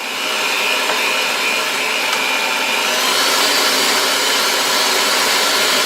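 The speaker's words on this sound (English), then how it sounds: "I increased my mixer speed and I just want to get a little bit of air into this" An electric mixer beats vanilla cake batter at high speed, a loud, steady whirring drone with a faint high whine that holds constant for several seconds, no voices.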